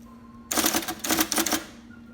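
IBM Selectric typewriter, a quick burst of sharp mechanical keystrikes in an uneven rhythm, close and crisp, ending in a clattering carriage return, with no talking.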